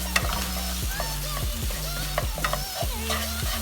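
Mushrooms sizzle and fry in a pan for a stuffed ribeye roast dish while a utensil stirs them. There are repeated scraping strokes over a steady, close, loud sizzle, with no talking.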